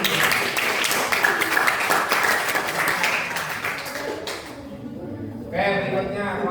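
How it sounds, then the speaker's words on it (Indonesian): A classroom of chemistry students clapping for a student group after its presentation, brisk rapid applause that fades out, followed by a teacher's voice speaking near the end. "tepuk tangan dulu buat kelompok"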